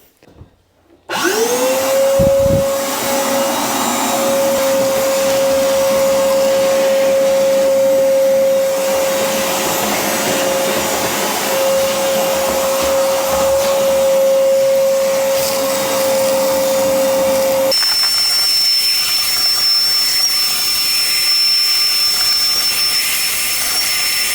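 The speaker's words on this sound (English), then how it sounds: "Now we got to suck all the stuff out with a vacuum cleaner." A vacuum cleaner starts up and runs with a loud, steady whine and roar while sucking debris from a toilet flange opening, then its pitch shifts abruptly near the end.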